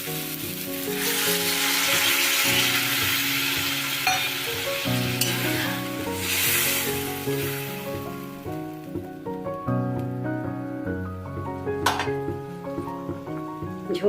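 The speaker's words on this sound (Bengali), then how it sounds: "এবার আমি ওকে পরিমাণ মতো জল দিয়ে দেবো" Water poured into a sizzling pan of rupchanda fish curry with potatoes sets off a loud burst of hiss and bubbling, with music playing throughout.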